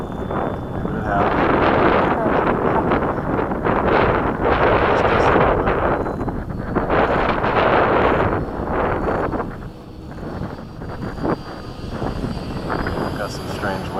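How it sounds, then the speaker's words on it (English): Strong gusting wind buffets the microphone at a model F-104 jet flying field, a loud, broad roar that swells and eases, with someone talking underneath. "Got some strange wind going on."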